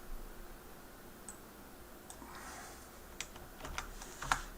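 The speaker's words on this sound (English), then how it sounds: "I'm just going to type in equals the sum of these cells here." Computer keyboard typing a spreadsheet formula in Excel, a few light, close key clicks scattered over a quiet background, growing busier toward the end.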